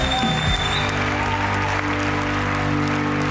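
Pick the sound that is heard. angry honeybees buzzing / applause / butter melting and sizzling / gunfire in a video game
applause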